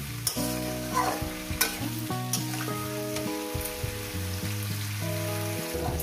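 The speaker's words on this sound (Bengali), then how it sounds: "ভালো করে সুন্দর করে মিনিট 5 ধরে আমি এটাকে সবজিটাকে সুন্দর করে ভেজে নেব।" Vegetables for a rohu fish-head and cane-leaf chorchori stir-fry in a pan with a loud, continuous sizzle and scraping stirs, set against steady background music.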